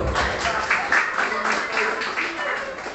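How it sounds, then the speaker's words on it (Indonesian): Audience applause at a seminar, a few seconds of steady, fairly dense clapping from a crowd in a hall, with some voices mixed in. "Kasih tepuk tangan dulu."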